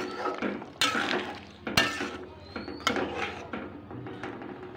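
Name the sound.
stirring chicken curry in a pan after adding ground garam masala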